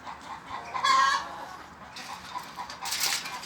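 Chickens in a backyard flock with a new rooster, clucking and squawking at close range in short bursts, one sharper cry standing out, over a low background murmur.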